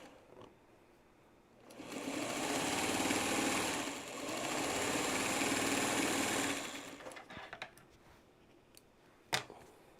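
A sewing machine stitches quilt blocks in two sustained, fairly quiet runs with a brief slowdown between them, followed by small handling clicks.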